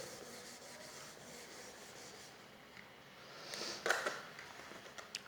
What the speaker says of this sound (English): let us rub the board.